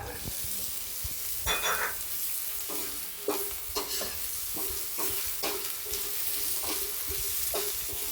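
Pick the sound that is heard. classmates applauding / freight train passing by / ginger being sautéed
ginger being sautéed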